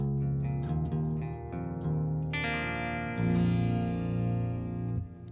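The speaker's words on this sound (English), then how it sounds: "we just want a pure clean sound. We'll just do delay and reverb." Clean electric guitar notes and chords through a Fractal AX8 ring out, each trailing into echoing delay repeats and a spacious reverb wash, with no voices.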